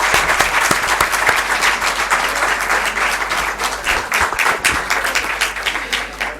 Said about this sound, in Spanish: pues un último aplauso